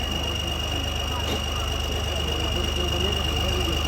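A tractor engine idles steadily with a low, even rumble and faint mechanical knocking, continuous throughout without pauses.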